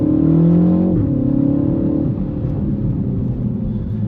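A Mini Countryman JCW's engine and exhaust rev close up, a loud throaty rumble that rises then settles into a steady lower drone, with no talking.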